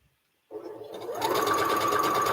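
A sewing machine starts up after a brief silence and runs steadily, its motor speeding up into a continuous close, even whir of rapid stitching, working on a quilt sandwich.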